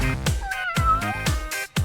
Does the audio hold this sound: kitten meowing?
yes